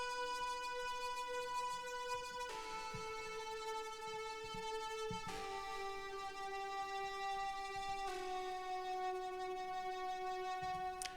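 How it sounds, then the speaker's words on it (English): A sustained, spacey synth pad from a synth metal mix, reserved for the final chorus, holds steady chords that shift to new voicings about every two and a half seconds, played alone at an even, moderate level. "in the synth layers, we have this spacey pad, which is only used in the final chorus"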